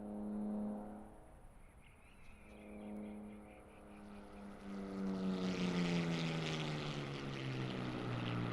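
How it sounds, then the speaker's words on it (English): A P-51 Mustang, Jersey Jerk, flies in Microsoft Flight Simulator with a steady propeller engine drone whose pitch slowly falls as it passes by, accompanied by a rising airy rush. "you are watching Carl flying the P-51 at the moment"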